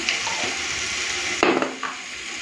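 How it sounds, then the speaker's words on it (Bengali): Oil spatters and sizzles steadily as small shrimp paste fries in a pan, a close, continuous hiss with a sudden louder burst partway through. "বড় ছিটকাচ্ছে তাই জন্য একটু নুন দিয়ে দিলাম"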